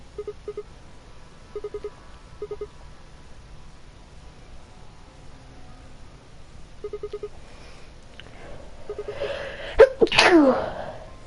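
A single sharp sneeze bursts out near the end, after a quiet stretch of faint electronic beeps and tones from the video game Zero Escape: The Nonary Games.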